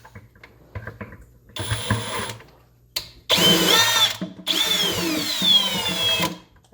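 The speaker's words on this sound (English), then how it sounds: "Drilling from the other side." A power drill bores into a homemade DIY water filter in three separate bursts, the motor whining as it bites through plastic, with short pauses and faint handling sounds between runs.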